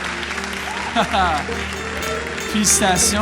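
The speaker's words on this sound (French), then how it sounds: "est-ce qu'on peut leur donner une main d'applaudissement ce matin?" A church congregation applauds at a morning worship service, continuous clapping under someone speaking briefly in French, with a couple of sharp bright bursts near the end.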